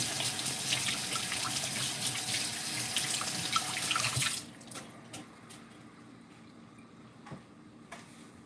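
Water gushes from a kitchen tap for about four seconds while hands are washed before cooking, then shuts off, leaving quiet room noise with a few faint drips and small clatters.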